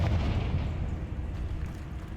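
A Confringo fire spell in Hogwarts Legacy erupts as a dense, rumbling blast that rolls on as a sustained low roar without a sharp decay, with no talking over it.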